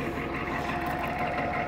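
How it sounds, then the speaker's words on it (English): Ford 6.9 IDI diesel in a truck, salvage-yard origin with worn exhaust, running steadily at idle with a continuous, even rumble close by and no talk over it. "It's a good running diesel."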